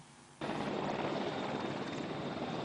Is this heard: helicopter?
yes